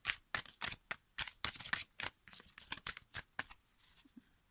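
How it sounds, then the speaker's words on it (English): A deck of two-sided cards is riffled and shuffled by hand in a run of crisp, rapid bursts, each a short papery flutter separated by brief pauses, close and clear with no talk. "I have to do a bit of a special shuffle because of the deck of the cards"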